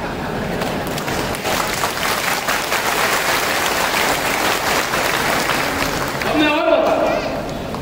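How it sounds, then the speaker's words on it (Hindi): Applause from the crowd at a Jatav community political gathering, dense and continuous clapping that swells slightly near the end, with voices mixed in. "अभी तालियां थोड़ी अच्छी बजी, बस अभी भी थोड़ी कम।"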